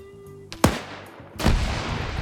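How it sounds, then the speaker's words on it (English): A grenade blast and gunfire in a multiplayer military shooter video game, a sharp loud crack followed about a second later by a second heavy explosive burst that rumbles away. "Grenades being thrown up to the rooftop, doing some damage though."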